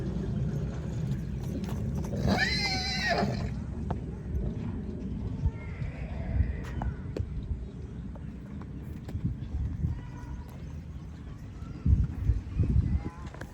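A mare lets out a loud whinny early on, followed by hooves clopping and shuffling nearby, with voices talking over the scene.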